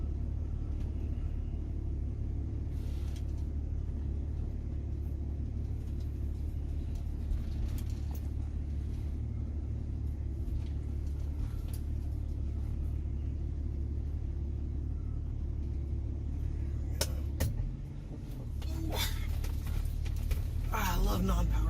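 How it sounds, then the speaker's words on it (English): Steady low engine rumble from a 1967 Ford Mustang idling and creeping in reverse down a driveway, continuous and close, with a brief dip near the end before the idle picks back up. "here we go backing down the driveway and see how we do"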